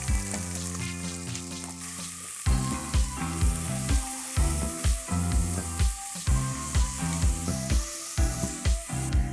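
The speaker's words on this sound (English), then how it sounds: "At this stage, I'm going to add chopped onion" Chopped onion hitting hot oil with bay leaves, green and black cardamom, cinnamon stick and cloves, a bright close sizzle with regular stirring pulses, playing under background music.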